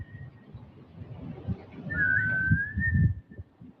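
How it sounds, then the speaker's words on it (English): An erratic whistle from a stranger figure: a thin, high tone opens, then a longer wavering whistle with sliding pitch rises over a low, muffled rumble, loud and fairly close. "This whistling is how they communicate."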